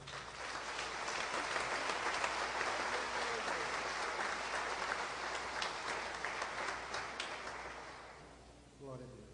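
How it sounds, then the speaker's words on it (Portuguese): Sustained congregation applause at an evangelical church service, a dense wash of clapping that builds, holds steady and fades near the end as a voice begins speaking. "Aplauda Jesus"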